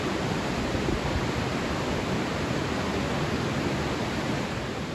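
A waterfall in Vancouver, Canada, rushes as a steady, broad roar of falling water that stays constant and fills the whole scene, with no voices over it.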